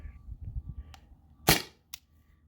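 Single sharp pop from a weak, nearly exhausted airsoft pistol, a T4E TR50 or Beeman BP50, close by, followed by a faint click.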